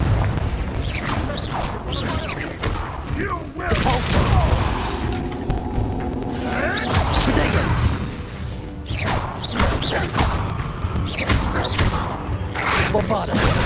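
Confringo fire spell cast in Hogwarts Legacy, loud fiery bursts and crackling impacts amid a dense battle clamour, with voices calling out over the action.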